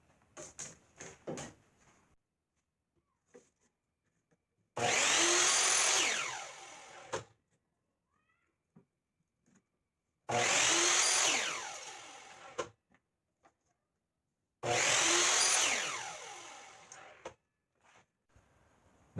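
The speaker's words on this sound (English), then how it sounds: "I'm going to cut them into 8-inch lengths on my miter saw." A miter saw cuts lightly sanded wooden toaster-tong blanks into 8-inch lengths, three loud bursts of about two seconds each spaced by pauses, after some faint handling clicks.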